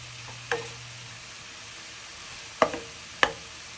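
Chicken pieces frying and browning in a pan, a low steady sizzle broken by three sharp clinks of a utensil stirring against the metal.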